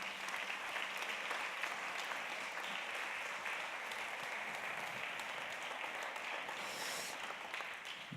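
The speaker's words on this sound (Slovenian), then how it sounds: "Tako da lepo prosim še en aplavz za njih." An audience at a live Femme Fatale 2017 event gives a sustained round of applause, a dense, steady wash of many hands clapping at low, distant-sounding level without pause.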